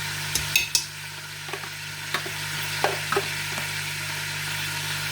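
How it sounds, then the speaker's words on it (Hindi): Crushed garlic drops into a hot pan and fries in a steady soft sizzle, with a few light clinks and stirring knocks from a utensil, close by and with no talking. "मैं डालूँगी इसमें 1 चम्मच भर के लहसुन का कुटा हुआ"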